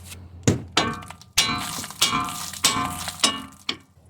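Hammer blows striking a steering knuckle to free the tie rod on a Dodge Durango 4.7 front end, about seven sharp metallic clanging hits spaced irregularly, loud and close.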